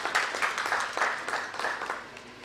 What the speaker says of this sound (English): We can actually give a big round of applause